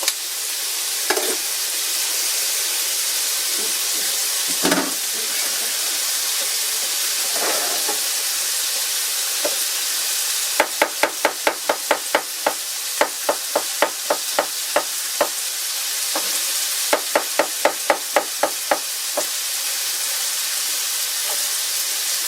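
Broccoli stir-fried with garlic and mushrooms for chicken fried rice: a continuous loud sizzle and hiss, with bursts of rapid rhythmic spatula clacks against the pan, close and without speech.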